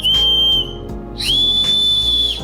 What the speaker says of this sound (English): we actually have a whistle on the end of this